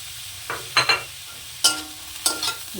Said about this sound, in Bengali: মাছের ডিম কটা দিয়ে দিলাম এবার সুন্দর করে শাকটাকে আমি ভেজে নেব